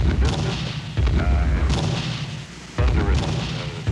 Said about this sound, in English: Bomb blast is coming down. And sounds like explosion.